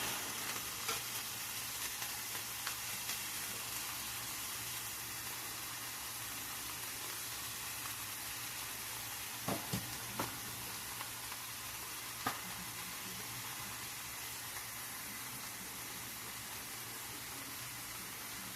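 Sausage sizzles steadily while frying in an iron skillet, a constant crackling hiss with occasional small pops and stirring clinks, no talk.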